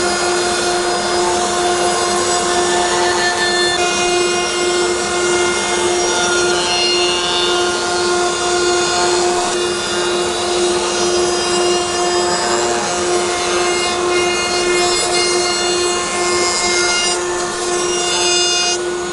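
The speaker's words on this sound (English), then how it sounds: "we're just going to put a very small 1/8 little round over on the all the front edges or the face edges of the drawers" A router cuts a small 1/8-inch roundover along the front edges of wooden drawers for jewelry boxes, producing a loud, continuous rasping whine that runs steadily throughout.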